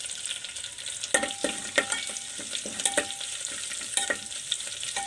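Mustard seeds, crushed garlic, curry leaves and dry chillies tempering in hot oil for cabbage palya, a steady close sizzle with sharp popping crackles every second or so and no voices.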